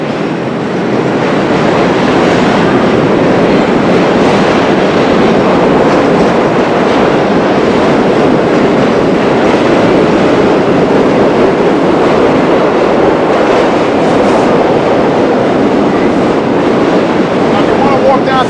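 An old wooden elevated train on the Fulton Street line emerges from a tunnel at East New York, giving a loud, steady, broadband rumble and roar that holds unbroken for the whole stretch, with some talk mixed into the noise.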